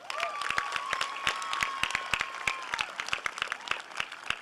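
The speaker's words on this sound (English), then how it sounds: "Round of applause" Sparse, scattered clapping from a small group at a high school graduation ceremony, distinct individual claps in an irregular rhythm, with a faint whistle-like tone running underneath.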